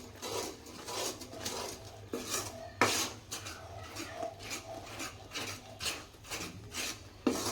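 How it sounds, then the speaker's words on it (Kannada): A spoon scrapes and rubs against a pot as gram flour is stirred into sugar syrup for Mysore pak, giving repeated rasping strokes at a moderate, uneven rhythm, close and fairly soft, with no talking. "ಈಗ ನಾನು ಇದರಲ್ಲಿ ಹಿಟ್ಟಾಕಿ ತಿರುಕೋತೀನಿ"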